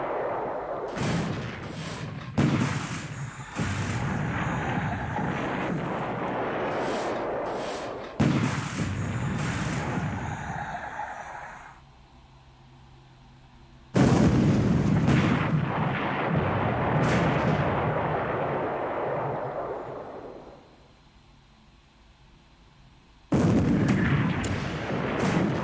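Naval combat in the War in the Pacific: Admiral's Edition strategy game during a torpedo attack in a February 1942 battle: loud, rumbling blasts and gunfire come in long bursts, broken by short lulls and abrupt new volleys.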